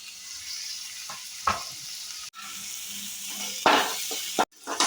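Shredded carrot and cabbage for momo filling fry in a hot pan with a bright sizzle, broken by louder hissing surges and stirring scrapes, with two sudden brief cuts to near silence and no talking.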